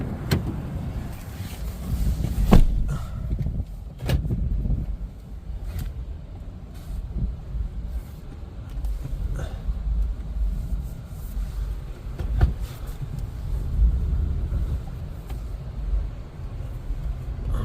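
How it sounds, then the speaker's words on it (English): A 2006 Lexus LX470 (100 Series) is driven and repositioned, its low steady engine and road rumble running throughout with a few brief knocks and clunks along the way; no one talks. "let me move this car around one more time so we can be facing the right way"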